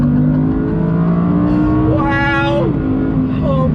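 An Audi R8 accelerating hard on a highway, its engine note climbing loud and close through rising gears with a brief shift dip, while a voice speaks excitedly over it.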